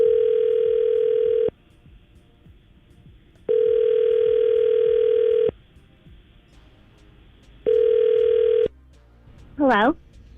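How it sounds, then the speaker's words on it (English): Outgoing telephone call ringing on the line: three long, loud ring tones separated by silent gaps, followed by a short rising electronic chirp, with no talking. "So we're going to try to call Morgan right now and see if we can get her on the phone and get some answers"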